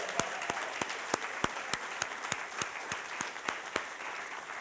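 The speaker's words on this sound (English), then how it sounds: "Can we get one more round of applause for all of our wonderful storytellers?" A storytelling event's audience at an anniversary celebration gives sustained applause for the storytellers. It is a dense wash of clapping with regular sharp, louder claps cutting through every few tenths of a second, steady throughout.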